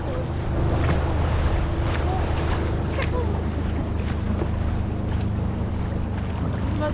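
A dragon boat team paddles across open bay water toward Fisherman's Wharf, with steady rushing water and wind noise filling the scene and faint rhythmic splashes beneath it.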